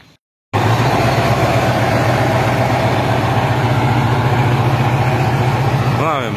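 A car engine idling loud and close, a steady low rumble that starts after a brief silent gap and runs on for several seconds; the car is old and about to be sold for scrap.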